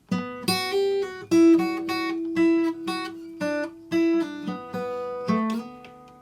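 A clean electric guitar melody line of plucked notes, evenly spaced and sustained, played alone at a moderate pace with no voices.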